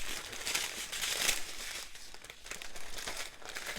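Diamond painting kit packaging being folded back up, with continuous close crinkling and rustling of plastic and paper and a few sharper crackles.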